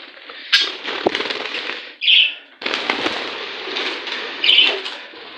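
Budgerigar chicks flap their wings in short bursts of flight, soft fluttering rustles with a couple of high chirps mixed in, close by and without talk.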